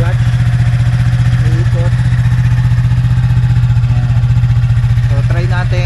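A Yamaha Sniper 155R motorcycle idles up close with a loud, steady, rapid engine pulse throughout, while someone talks over it.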